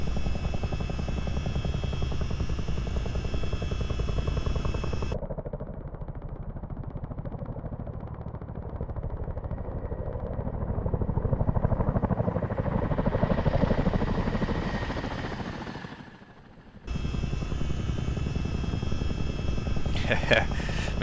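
Rotors of a Chinook CH-47D helicopter in Microsoft Flight Simulator throb loudly and steadily. The sound dulls and thins for a stretch, drops briefly, then returns full, with someone speaking over it.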